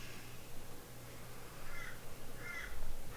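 Crow-like birds cawing out in a forest, a few hoarse calls that start faint and grow louder toward the end, over a steady background hum, with no voices.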